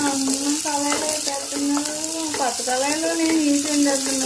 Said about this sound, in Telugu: ఉల్లిపాయ అనేది మనకి పూర్తిగా ఫ్రై అవ్వాలి